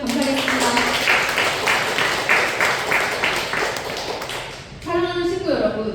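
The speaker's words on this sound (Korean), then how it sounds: "큰 박수를 올려주시면 감사하겠습니다" Applause from a church congregation at a Sunday worship service, a steady wash of clapping over several seconds that fades out, followed by a speaker's voice.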